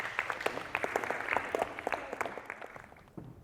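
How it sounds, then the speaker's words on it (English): An audience cheers a winning primary school team at a school competition day with steady, fairly distant applause that carries on at an even level and tapers off toward the end. "A round of applause for St."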